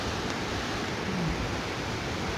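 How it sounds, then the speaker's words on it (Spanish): Ocean waves on the shore at Nuevo Vallarta form a loud, continuous broadband wash, close and steady, with no voices. "no sé si estés escuchando bien el ruido de las olas"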